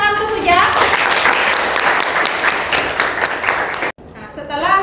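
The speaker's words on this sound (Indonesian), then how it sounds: "kita berikan tepuk tangan untuk Puja" Classroom applause at a vocational arts school, a burst of clapping from students that fills most of the moment under a teacher's voice, cutting off abruptly before talk resumes.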